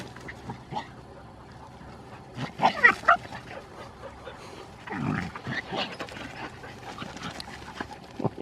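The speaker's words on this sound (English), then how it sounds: "Now the dogs have come back" Several dogs panting, whimpering and giving short yips and barks, loudest in two close bursts partway through, with quieter panting and rustling in between.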